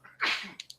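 One sharp sneeze bursts out close by, followed by a couple of quick breaths.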